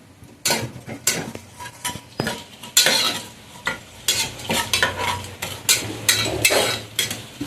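Tomato rice with cumin, mustard seeds and bay leaves being stirred in a pot, heard as a series of close, uneven metal spoon scrapes and clinks over a soft sizzle, no talking.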